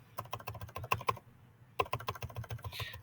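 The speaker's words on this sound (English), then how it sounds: "in my works cited, I'm going to enter Gladwell, Malcolm" Quick bursts of typing on a computer keyboard, close and crisp, with a short pause midway before the clicking resumes.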